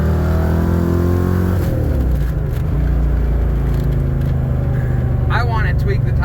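Ford Mustang fastback dropping a gear and accelerating: a loud, steady engine roar climbs in pitch as it pulls away, heard from inside the car with continuous road noise throughout.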